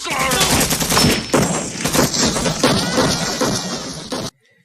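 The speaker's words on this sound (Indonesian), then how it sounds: "Erikson menembakkan senjatanya ke udara, yang membuat posisi mereka langsung diketahui oleh musuh" Sustained burst of gunfire in a war film as a gun is fired into the air, loud dense shots with layered battle noise continuing steadily before stopping abruptly.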